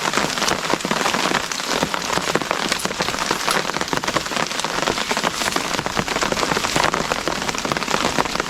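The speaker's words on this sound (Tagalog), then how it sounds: "inabot kami ng ulan" Heavy rain pours down outdoors over a coconut farm, a loud, steady hiss of drops drumming on surfaces throughout, with no voices.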